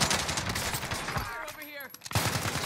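Rapid automatic gunfire from the Warzone video game, loud bursts of shots filling most of the moment with a brief lull before firing resumes.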